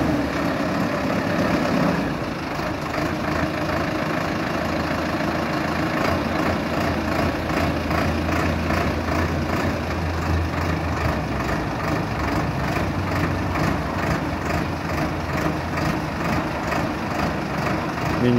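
A Solis 105 tractor's diesel engine idles steadily nearby, a low rhythmic chugging that continues unchanged throughout, with no voices.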